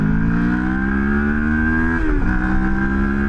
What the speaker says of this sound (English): We'll do one more acceleration going the other way. Full power.